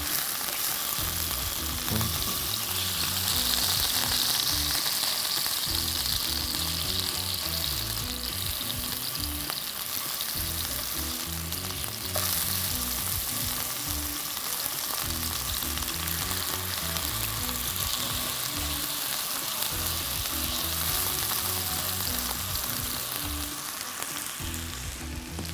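Breast meat fries evenly on all sides in a pan, a steady, dense sizzle running close and loud for the whole stretch, with low music beneath it.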